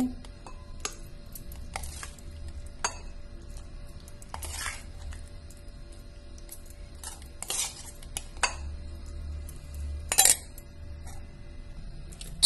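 Cooked pumpkin palya being served from a pot with kitchen utensils: scattered metallic clinks and scrapes of spoon on cookware, a few sharper knocks, over a quiet room background.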